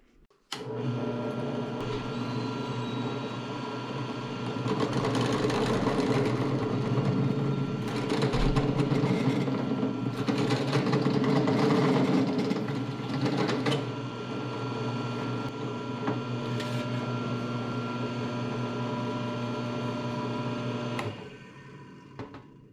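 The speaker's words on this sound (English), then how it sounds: "Now let's get these holes drilled out to the size they need to be" Drill boring string ferrule holes in a copper guitar body, a continuous close motor whine with grinding intensifying mid-way, running about twenty seconds before stopping, no speech.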